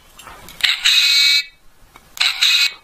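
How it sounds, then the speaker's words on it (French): A Darth Vader keychain figurine plays two bursts of a shrill, buzzing electronic tone, each about half a second long and separated by a short gap, close and loud with no voices. "on pourrait dire que c'est le bruit de 2 sabres laser entre eux"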